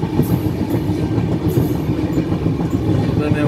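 A Saraighat Superfast Express passenger train runs on rails between Bongaigaon and Kamakhya in Assam, heard from inside a 3rd AC coach as a steady close rumble with rhythmic clatter throughout.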